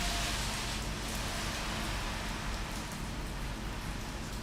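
Steady rain pours down in a dense, even hiss of drops hitting surfaces, loud and unbroken throughout with no voices over it.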